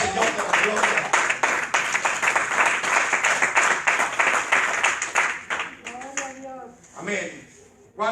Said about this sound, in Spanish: ¿Cuántos dan un fuerte aplauso al Señor de la gloria?